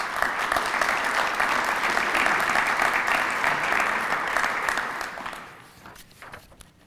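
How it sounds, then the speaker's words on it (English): Audience at a 2023 State of the City event applauds its sponsors, with steady, dense clapping filling the room for about five seconds before it thins out and fades. "Let's give them a round of applause."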